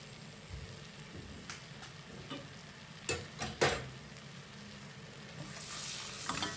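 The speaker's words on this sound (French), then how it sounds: "Bien mélanger." Tomato concentrate being stirred into a hot sizzling pan, a low crackling hiss punctuated by several scraping, clattering utensil strokes, with the sizzle swelling louder toward the end; nobody speaks.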